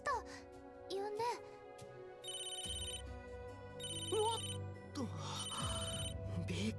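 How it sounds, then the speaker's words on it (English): A telephone in the Tokyo Xanadu video game rings in repeated bright trilling bursts under background music, with voiced game dialogue in between. "it's a phone"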